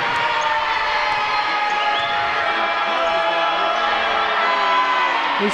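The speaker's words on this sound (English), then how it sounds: "This crowd is letting these Rockets hear it, especially this student section" A crowd at a boys' high school basketball game, led by a loud student section, roars and cheers continuously with whoops and yells, a dense sustained wall of noise filling the gym.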